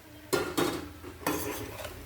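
Leftover chapati crumbs tossed into spiced oil in a kadhai for chivda, heard as two loud bursts of scraping and clattering as the spoon stirs against the pan, each fading into a light sizzle.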